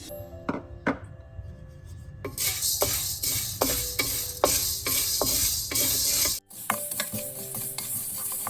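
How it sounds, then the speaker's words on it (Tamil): Dried chillies and fenugreek seeds dry roasting in a pan for homemade Jaffna curry powder, a steady scraping stir with dry rattling and light sizzle, loud and close, pausing briefly near the end. "நான் மிளகாய் சேர்க்க போகிறேன். அதோட வெந்தயத்தையும் சேர்த்து வறுக்க போகிறேன்."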